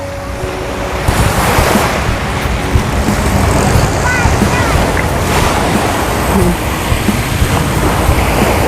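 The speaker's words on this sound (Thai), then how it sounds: "โอ้บรรยากาศทะเล" Waves wash steadily onto a quiet, uncrowded beach under a grey sky, with wind rushing over the microphone and a continuous low surf roar; no one speaks.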